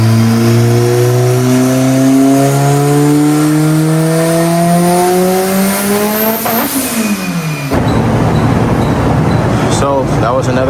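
A big-turbo Mitsubishi Evo on a dyno pull roars loudly, its pitch rising steadily until boost cut chops it off abruptly, followed by harsh popping and crackling bursts.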